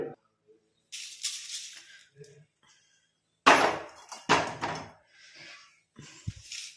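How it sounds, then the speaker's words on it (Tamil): Roasted almonds and black cumin tipped out onto a plate: two loud bursts of scattering, clattering rattle with a short scrape between them and a final knock, each pour lasting about a second. "இப்போ நம்ம ஒரு தட்டில் கொட்டி வச்சாச்சு"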